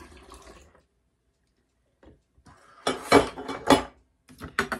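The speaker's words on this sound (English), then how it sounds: "Add 4 cups of water" Water splashes and gurgles in short bursts as four cups are poured into a spray bottle, close by, after a brief quiet pause.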